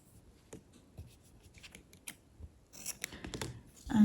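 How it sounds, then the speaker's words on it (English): Scissors snip through yarn while finishing a crocheted baby cardigan, a few quiet, close cuts and rustles clustered near the end with no talking. "Cut off your yarn."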